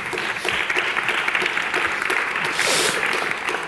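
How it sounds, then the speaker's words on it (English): Audience applause after a panel of speakers at a conference session, a steady, moderately loud patter of many clapping hands that continues evenly throughout and brightens briefly near the end. "Big applause."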